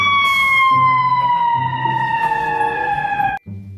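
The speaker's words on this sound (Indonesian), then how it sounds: "Pemadam kebakaran." A toy fire truck's electronic siren wails in a steady, slowly falling tone, loud and close, with a buzzy mechanical undertone, cutting off abruptly near the end before briefly resuming.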